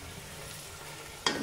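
Tomato paste added to potatoes frying in a pan, with a low steady sizzle, then a sudden louder scrape and stir near the end.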